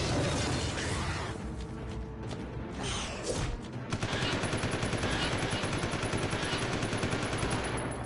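Rapid machine gun fire from the Resident Evil 0 video game, dense sustained bursts with crashing impacts that keep on loudly throughout, briefly thinning before a heavier continuous stretch.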